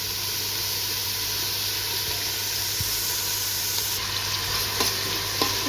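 Onions frying in oil produce a steady, close hiss, with a few light scrapes and taps of a utensil toward the end.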